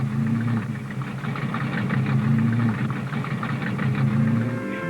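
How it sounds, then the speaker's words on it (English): A race car engine starved of air and running sluggishly, a loud, low, rough droning rumble with a steady pulsing throb throughout, close up and with no talk over it. "The engine feels sluggish."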